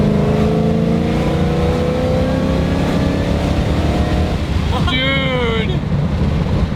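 A 1000HP Shelby GT500 Mustang accelerates in fourth gear, its loud engine note rising steadily and continuously, then a quick gear-related pitch drop and climb near the end, with a voice talking over it.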